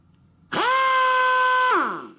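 An air impact wrench runs off a Kobalt Quiet Tech 26-gallon air compressor in a single loud, steady, close-up whine that lasts over a second and then winds down as the air is released.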